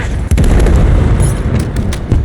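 A helicopter explodes in Call of Duty: Modern Warfare III with a loud, heavy boom, followed by rolling low rumble and scattered crackling bursts fading over a couple of seconds.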